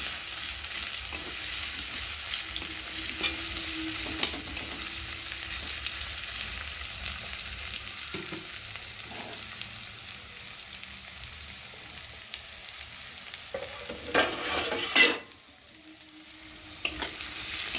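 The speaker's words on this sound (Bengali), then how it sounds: "আমি পেঁয়াজের সাথে রসুনটাকে ভেজে নেব" Steady oil sizzle of onions and garlic frying in a pan, with occasional stirring scrapes and clinks, close and continuous, no talking.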